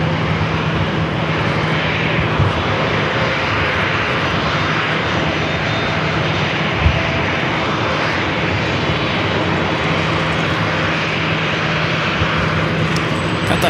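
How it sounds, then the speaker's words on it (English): A Southwest Boeing 737-800 departing San Diego, its jet engines roaring loud and constant at close range, with a brief thump partway through. "The Southwest flight heading to Denver, flight 3497 is 737-800."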